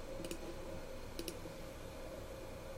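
Numbers keyed into a calculator while working an arc-length problem: two quick pairs of small plastic clicks over a steady low hum, close by and faint.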